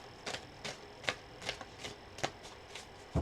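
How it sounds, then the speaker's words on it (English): Tarot cards shuffled by hand in a quiet room, a string of quick crisp riffling bursts at an uneven pace, close and fairly soft, ending with a louder thump. "As I've been shuffling the cards today"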